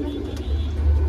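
A thin, fine-bodied Shanpuri fancy pigeon gives a brief, soft coo close by over low background rumble.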